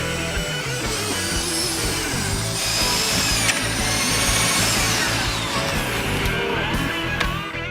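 A power drill grinds loudly and continuously through log timber, its motor whine rising and falling as the bit bites in, close by.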